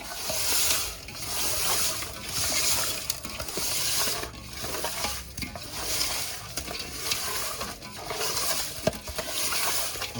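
Fish vigorously scrubbed by hand with coarse salt and no water, a harsh, rhythmic gritty rasping that repeats in strokes for several seconds, close and loud.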